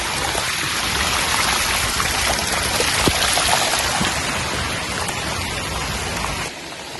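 Steady heavy rain with water rushing along a road near a hill fort, a loud dense continuous hiss of drops and flowing water with no pauses, softening slightly at the end.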